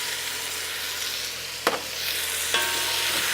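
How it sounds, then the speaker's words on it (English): Fish stew base with a heaped teaspoon of paprika sizzles steadily in a hot pan, a continuous frying hiss broken by two short scraping stirs, close and alone with no talking. "Just let that sizzle away for about 5 minutes."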